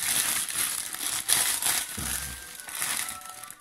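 Cardboard and plastic packaging crinkle and crumple as a boxed Street Fighter Rose figurine from the Altaya collection is opened, with several close rustling bursts and a soft thump.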